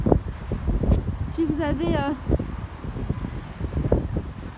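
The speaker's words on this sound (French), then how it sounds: "je suis désolée, il y a beaucoup de vent" Gusty wind buffets a microphone outdoors in Paris near the Eiffel Tower, giving a rough low rumble that rises and falls while someone speaks French over it.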